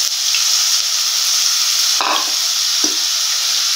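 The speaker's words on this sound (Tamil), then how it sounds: "ஒரு 2 மீடியம் சைஸ் பல்லாரி வெங்காயத்தை நல்லா பொடியாக நறுக்கி அதில் சேர்த்துக்கோங்க" Two finely chopped medium onions fry in hot oil in a kadai, giving a loud, constant sizzle. A couple of brief stirring scrapes break through near the end.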